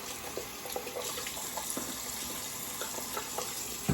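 Tap water running steadily into a bathroom sink before a wet shave, a close, continuous splashing hiss with small irregular spatters throughout.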